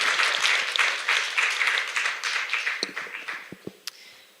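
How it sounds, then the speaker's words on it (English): An audience at a North Korean human rights conference applauds a panel with dense, loud clapping that thins out into a few scattered, distinct claps near the end. "please give another round of applause to all of them"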